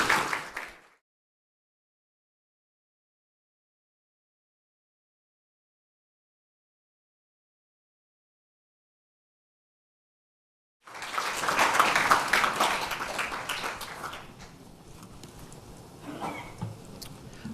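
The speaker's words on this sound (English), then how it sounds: "Round of applause" Following a long stretch of silence, a conference hall audience at a news forum session breaks into moderate applause that peaks and then tapers off into scattered claps.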